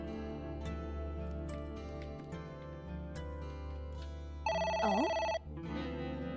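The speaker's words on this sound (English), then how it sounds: "It's the phone. Maybe try picking it up?" A telephone rings in the video game AI: The Somnium Files, a short burst of electronic ringing tones over quiet background music, with a brief spoken interjection just before it.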